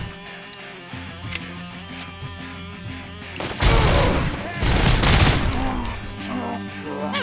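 Gunfire in the RoboCop: Rogue City video game, loud bursts of shots with a heavy barrage midway, over a steady game soundscape with some talk.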